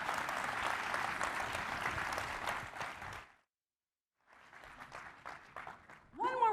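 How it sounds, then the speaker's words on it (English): A conference audience applauds in a loud burst of clapping that breaks off into silence, then resumes more softly before a voice starts speaking. "One more round of applause for Crypto Daddy, the one and only Toli"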